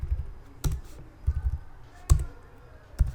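Computer keyboard typing during spreadsheet work, a handful of sharp key clicks spaced irregularly, some in quick pairs, close and fairly loud over a quiet background.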